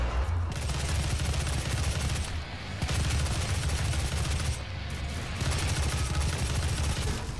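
Sustained rapid gunfire from a weapon in the video game DOOM, loud and dense across the whole stretch with two brief dips, sounding like continuous automatic fire or heavy blasts with no talk over it.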